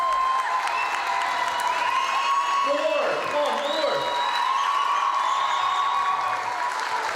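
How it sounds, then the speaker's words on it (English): Rapturous applause and cheering for young dancers at a 30th anniversary dinner form a dense, continuous crowd roar with whoops and shouting voices throughout. "The rapturous applause they received"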